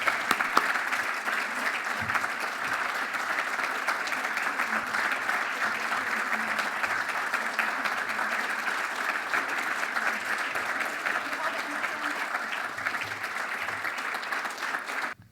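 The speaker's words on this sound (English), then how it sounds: "a huge round of applause for her amazing contribution" Sustained applause from a large audience at an environment awards ceremony, dense and even clapping that holds strong for many seconds before cutting off.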